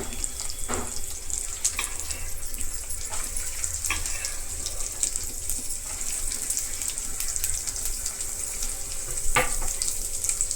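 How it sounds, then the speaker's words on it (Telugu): Onions frying for a cauliflower curry, a steady bright sizzle hissing close up for the whole stretch, with a few soft clinks and spatters scattered through it. "ఇప్పుడు ఇవి కొద్దిగా ఫ్రై కావాలి. అలాగే కొద్దిగా ఆనియన్స్ కూడా వేసేసుకున్నాము."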